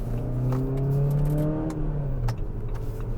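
A Jeep Compass Trailhawk engine accelerating from inside the cabin, a steady mid-pitched drone rising in tone with rolling road rumble underneath, continuous and moderately loud.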